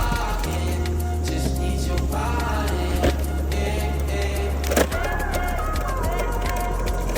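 Gyrocopters Flash X electric scooter descending a very steep hill, steady motor hum and rolling wheel noise with wind buffeting, under music and a rider's voice.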